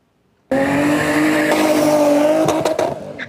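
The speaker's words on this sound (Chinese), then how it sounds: "一台一台的赛车声音轰轰叫，真响当北" Race cars at the Chinese International Racing Festival beside the Tianzhong high-speed rail station in Taiwan burst in after a short silence with a loud, sustained engine roar, then tyres squeal and rasp near the end.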